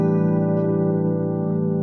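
A single sustained piano chord with an advanced six-note voicing on A, the final chord of a 7-3-6 progression, ringing steadily and close with no talking.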